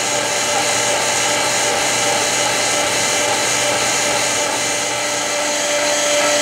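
A 48-inch Webster Bennett vertical turret lathe raises its rail with a steady, loud mechanical whine and motor hum, continuous and unbroken throughout.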